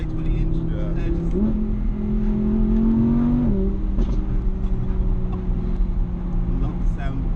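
A 2016 Audi R8 V10 Plus engine revs up under load, its tone climbing steadily and then easing back to a loud, even drone beneath faint background talk.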